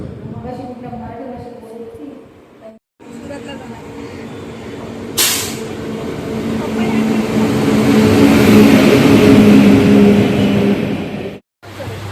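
Busy railway station ambience with a train and vehicle rumble, a sharp hiss like an air brake partway through, swelling louder toward the end, with people talking throughout.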